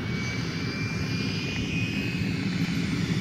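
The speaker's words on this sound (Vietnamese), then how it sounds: "Wow, máy bay đang khởi động cái gì, nghe tiếng ồn quá ha." An airplane engine at Xieng Khouang Airport in Laos, a steady droning roar with a faint rising whine, continuous and moderately loud at some distance.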